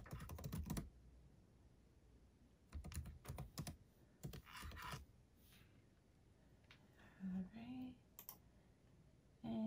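A password is typed on a computer keyboard in quick bursts of close, crisp keystrokes separated by short pauses, with a few softer clicks toward the end.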